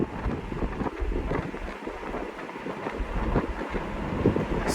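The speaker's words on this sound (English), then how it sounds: "Still not bad wind noise in here for it to be a convertible." Steady wind rush and low road rumble inside a 2021 Chevrolet Camaro 2SS convertible driving in cold weather, a continuous, fairly loud broadband roar without talking.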